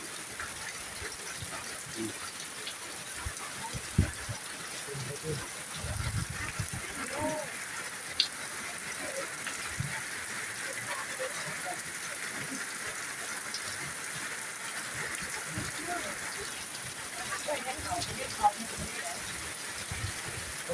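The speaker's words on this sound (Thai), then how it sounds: "พี่น้องเลยฝนตกมาให้ละพี่น้องเลยอยู่" Steady rain falls at a rural site where a bathroom is being built, a constant broad hiss lasting throughout with faint scattered voices and small knocks underneath.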